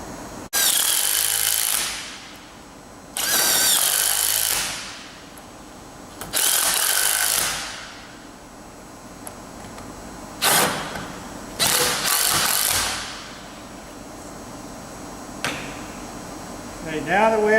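Several short, loud bursts from a power tool tightening nuts and bolts on hinged belt fasteners, spaced irregularly with brief pauses between them.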